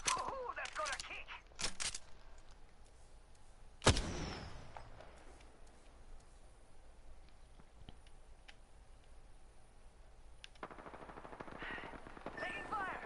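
Gunfire in a combat video game: several sharp shots and a burst near the start, a loud crack around four seconds, then quieter intermittent shooting with faint voices underneath.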